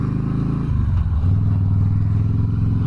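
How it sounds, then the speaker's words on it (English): A 2009 Harley-Davidson Softail Deluxe motorcycle engine rumbles steadily while riding, a loud, close low-pitched drone that deepens and swells after a brief shift in pitch partway through. "Shoo, that thing sounds like a motorcycle."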